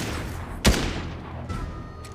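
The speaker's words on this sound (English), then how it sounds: "You're getting shot at." A sharp gunshot in the Fortnite video game cracks out close and loud, followed by a fainter second shot a moment later and a quieter distant report at the end.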